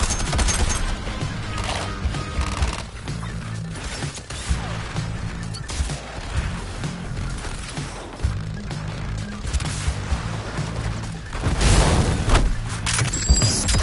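Dense video game gunfire and explosions rattle continuously in a loud, cluttered mix of rapid shots and booms that swells toward the end.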